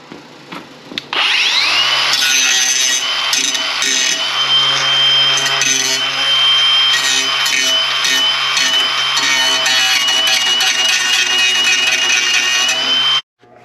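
An angle grinder works steadily on the damaged frame of a totaled 1991 Chevrolet Camaro, a loud, continuous high whine that starts after a second and runs nearly unbroken before cutting off abruptly at the end.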